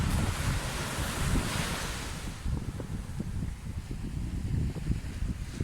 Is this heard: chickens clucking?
no